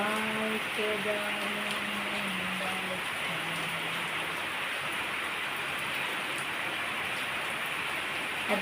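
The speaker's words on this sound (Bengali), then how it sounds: "এত বৃষ্টিতে ভিজে আমার শরীর খারাপ হয় না?" Heavy rain falls steadily outdoors as a dense, even hiss throughout. A few tonal, voice-like sounds are heard faintly in the first seconds.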